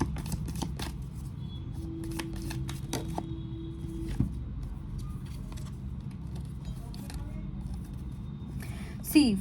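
Tarot cards are shuffled in quick riffling bursts near the start, then fall quiet under a low steady hum, with a few soft card taps later on.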